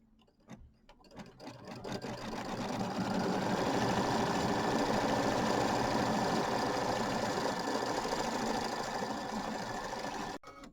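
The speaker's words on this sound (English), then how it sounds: "So we're going to start the quilting, and it's going to do that pebble design" A computerized sewing machine quilts a pebble design of small circles. After a few clicks it speeds up into a loud, continuous mechanical whir that holds steady for several seconds, then stops.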